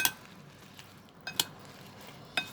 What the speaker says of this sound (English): And now we will mix with the spices.